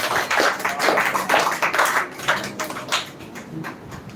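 A small audience at a spoken English event on female education claps for a speaker, a cluster of hands tapping out quick, uneven bursts close by that gradually thin and fade toward the end.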